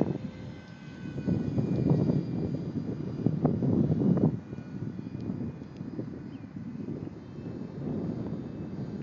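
An AMX electric ducted fan model jet flying overhead, its whine swelling as it passes closer, then fading and returning more distantly, with light wind noise on the microphone.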